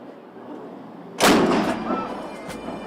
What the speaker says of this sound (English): At 1 o'clock every day except Sunday, a cannon fires atop the castle.